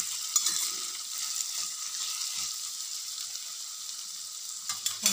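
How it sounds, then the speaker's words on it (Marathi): Steady sizzling and frying of red pumpkin pieces roasting in a pan, with occasional soft scrapes of a stirring spoon, close and continuous with no talking. "अधूनमधून हलवून हलवून परतून घ्यायचं आहे।"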